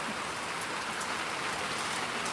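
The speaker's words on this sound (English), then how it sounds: "I sure do love sitting on my porch though and watching it rain. Listening to it." Steady rain falling around a porch, a continuous even hiss of drops hitting surfaces with faint scattered patters, close and enveloping with no voices.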